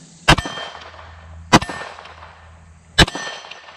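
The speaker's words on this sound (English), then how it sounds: "We're going to go for the MGM target's gong here." Rifle bullets striking a steel MGM gong target at a shooting range, three sharp metallic clangs spaced about a second and a half apart, each ringing briefly, heard clearly with no talk.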